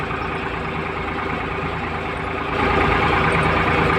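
A New Holland TT65 tractor engine drones steadily and loudly nearby while rolling a sown corn field, a continuous low rumble that grows slightly heavier partway through.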